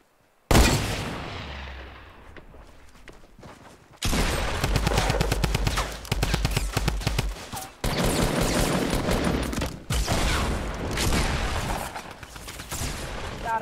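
Shotgun gunfire in a Fortnite match: a sharp blast, then long stretches of loud, dense repeated firing with brief gaps between sustained volleys, no talk.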